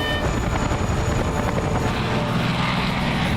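An aircraft flies in a dubbed adventure film scene, a loud, steady engine drone with a whirring propeller-like texture that fills the whole stretch, and no voices are heard.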